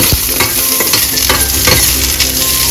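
Peanut chutney ingredients and garlic cloves roast and sizzle in a hot pan, with a spatula scraping and stirring in a steady rhythm, close and loud, no talk.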